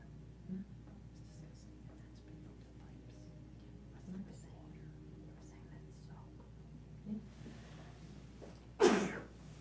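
A single sharp sneeze bursts out near the end during a village zoning board meeting, after a long stretch of quiet room murmur and soft rustling.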